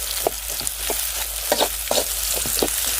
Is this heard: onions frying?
yes